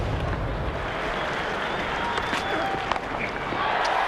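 A large stadium crowd at a T20 cricket match between England and South Africa roars and cheers a six, a dense, sustained wash of noise with no letup.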